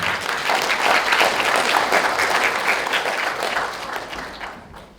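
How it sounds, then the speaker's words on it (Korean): A crowd at a community redevelopment briefing in Daejeon, South Korea bursts into loud, sustained applause, thick continuous clapping that tapers off slightly toward the end. "뜨거운 박수로 환영해 주시기 바랍니다"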